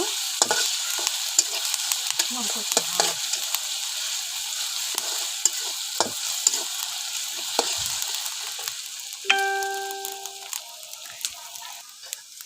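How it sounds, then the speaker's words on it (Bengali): Onions browning in a pan for haleem sizzle steadily with a constant hiss, punctuated by light clicks of stirring, and a brief electronic beep sounds near the end. "এখন আমি পেঁয়াজটাকে বেরেস্তা করে নিচ্ছি বাদামি কালার করে ভেজে নেব"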